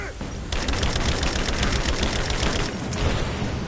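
Rapid automatic gunfire in Rise of the Tomb Raider, close and loud, crackling in dense repeated bursts after a brief quieter opening.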